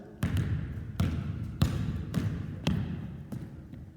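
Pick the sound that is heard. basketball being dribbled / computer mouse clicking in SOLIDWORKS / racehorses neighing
basketball being dribbled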